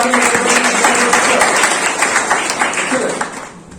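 Audience applause at a seminar organized by a college group about the role of police, a dense burst of clapping from many hands that fades out over a few seconds, with voices talking over it.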